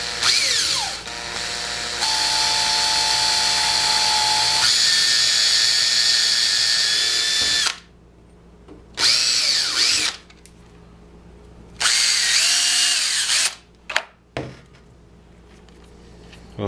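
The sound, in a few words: power drill drilling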